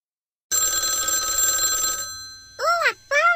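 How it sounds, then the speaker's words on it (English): A cartoonish telephone bell rings loudly and steadily for a second and a half in a children's show scene, then stops as a child-like voice speaks two short bursts. "Oh, a phone call."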